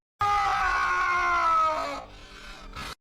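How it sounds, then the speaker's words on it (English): A woman in a hospital drama lets out a long, loud, piercing scream lasting over a second, which trails off into a shaky, strained cry. "scream,"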